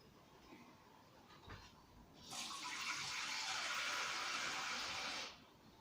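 Water poured steadily into a bowl in a home kitchen, a broad rushing splash lasting about three seconds and then stopping abruptly, fairly close, with no talk over it.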